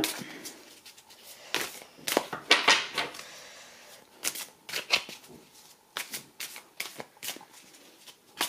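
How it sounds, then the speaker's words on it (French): Oracle cards being shuffled by hand, a run of crisp riffling bursts and soft flicks at close range, with short pauses between passes and no talking. "je bats les cartes"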